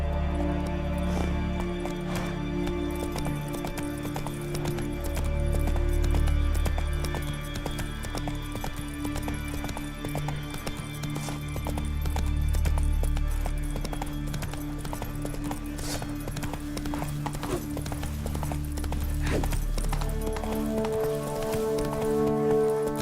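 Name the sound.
horse galloping in the video game The Witcher 3: Wild Hunt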